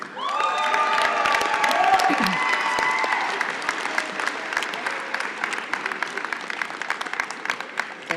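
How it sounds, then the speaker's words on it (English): Audience applause at a university commencement ceremony, a dense steady clapping with a few whoops and cheers at first, then slowly thinning to scattered claps. "So one more round of applause for the class of 26."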